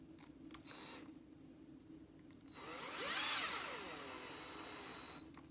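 A cordless drill whirs up and spins for a few seconds driving a small screw into an RC car kit, its pitch swelling and then easing, close by against a quiet background hum.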